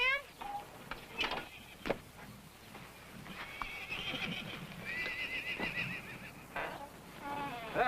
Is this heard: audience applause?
no